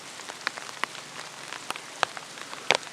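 Rain pattering steadily on a surface outdoors in the Duck Mountains of Manitoba during a spring bear hunt, with distinct sharp drops striking close by over a constant soft hiss.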